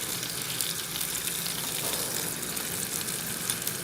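Whole red chilies, cinnamon sticks and cloves frying in hot oil give off a steady, close, even sizzle with a constant crackling hiss throughout and no voices.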